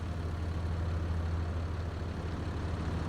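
A tractor engine idles in a farming video game, giving a steady, low, rumbling drone that holds even and loud throughout the short stretch with no talk over it.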